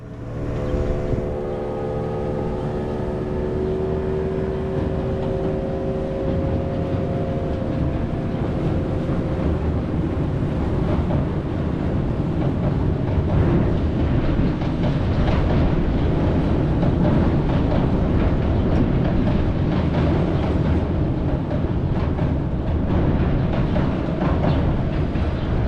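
A Metro-North M8 commuter train passing at South Norwalk near the Norwalk River Railroad Bridge, a loud, sustained rumble with a horn-like tonal blast at the start, rolling steadily close by.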